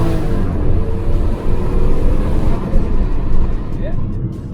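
A Toyota Crown JZS171 fitted with an HKS Super Flow intake accelerates from low speed, its engine note rising in a loud, close, sustained pull with intake rush filling the cabin.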